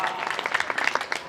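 An audience at a Hindi poetry recital (kavi sammelan) claps, a dense patter of many hands mixed with voices and cheers, fairly loud and continuous through the brief stretch.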